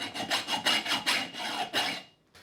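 Sandpaper rubs back and forth across a rusty hatchet head in a quick, even series of about nine raspy strokes, close and fairly loud, then stops with a brief faint scrape at the end; no speech.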